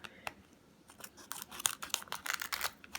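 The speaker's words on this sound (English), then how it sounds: "they actually have like a little slit to open them, but I normally use scissors" Close, quiet scissors snip through a small nail prep pad packet in a few crisp, irregular cuts.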